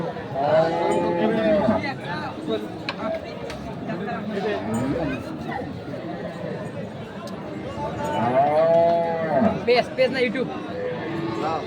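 Cattle mooing at a busy livestock market, with people talking and chattering throughout; several drawn-out lows rise above the steady hubbub.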